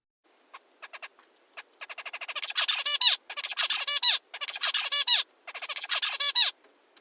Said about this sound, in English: And so that's one bird song.